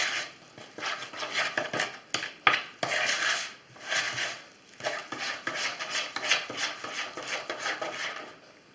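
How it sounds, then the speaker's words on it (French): A utensil scrapes and clinks against a bowl while yogurt cake batter is stirred, with steady rhythmic strokes and short pauses, close and fairly loud, no talking. "On remélange."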